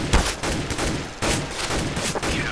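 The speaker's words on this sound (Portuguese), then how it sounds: "o cara já tá dando um tiro ali nele" Gunfire in the video game Counter-Strike: Global Offensive, with two sharp bursts of rapid shots over a dense, loud background, the second burst starting about halfway through.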